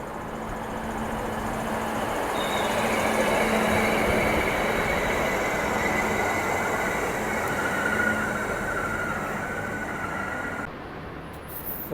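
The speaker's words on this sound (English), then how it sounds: "Hunterset pulling into platform 1, terminating service from Singleton." A Hunter set train pulls into platform 1 at Newcastle interchange, a steady loud rumble of wheels and motors with faint squeals and a high whine, continuous throughout with no talk.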